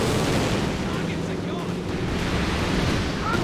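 A Land Mattress rocket barrage pounds the ground in Company of Heroes 2, a dense, continuous roar of overlapping explosions and rushing noise that stays loud and steady throughout.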